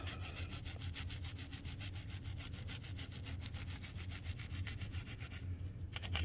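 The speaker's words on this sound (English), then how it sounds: "And what you do is you just scrape it." Dried paint, oil or grease being scraped off a surface with remover, rapid rhythmic back-and-forth scraping strokes, close and loud, continuing steadily without pause.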